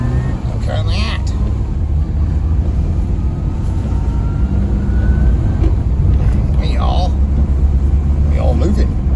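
A 1985 Mini Metro, long unused and on flat-spotted tyres, drives along a country road, giving a steady, loud cabin rumble of engine and road noise throughout with a few faint knocks and rattles.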